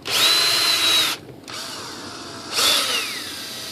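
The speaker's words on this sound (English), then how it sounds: "do a little more sanding on it." A power sander works on a composite part of a 2.6 m ASH26 sailplane, giving two bursts of high, whining motor noise that rises and falls in pitch, split by a short quiet pause.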